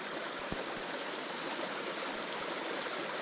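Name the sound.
small creek of water flowing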